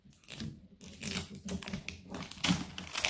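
A zipper on a plastic toy package is pulled open by hand, giving a run of close, crackly rasping and tearing bursts with short pauses between them and no talking.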